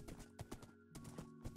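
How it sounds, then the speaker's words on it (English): Rhythmic hoof clip-clops and soft horse noises while a horse is being tamed in Minecraft (version 1.20), quiet and steady throughout with no talking. "I'm trying to tame a horse here."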